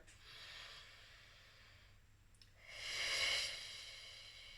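A singer does a slow, deep belly-breathing exercise: a soft, airy inhale followed by a louder, fuller breath of air, close to the microphone in a quiet room.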